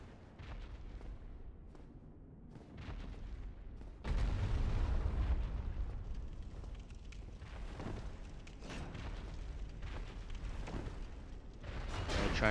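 Heavy thumping from a boss lurking nearby in Dark Souls, low booming impacts rolling through a dark area over a rumbling game backdrop, growing louder and denser partway through.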